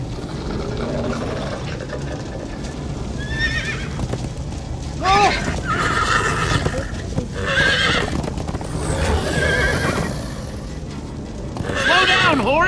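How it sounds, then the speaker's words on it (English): Horses in the Minecraft: Story Mode video game whinny loudly several times over busy galloping hoofbeats, with voices calling out during the chase. "Slow down, horse!"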